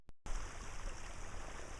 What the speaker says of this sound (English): obviously lots of water's going by